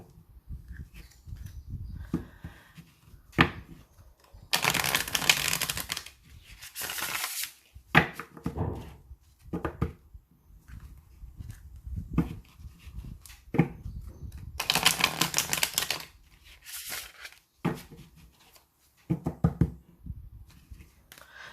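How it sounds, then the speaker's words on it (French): Oracle card decks being shuffled by hand: close, crisp bursts of riffling and rustling cards, several long runs with short pauses and lighter shuffles between them, no voices. "je vais brasser les jeux et procéder au tirage"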